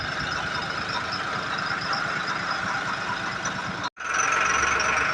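A tractor's heavy diesel engine chugs steadily with a knocking rumble while towing a trolley, cutting out for an instant before resuming louder.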